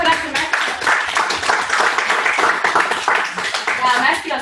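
A small group claps together during a fitness coaching session, a lively, fairly close run of overlapping hand claps that continues evenly for several seconds while people talk and cheer over it.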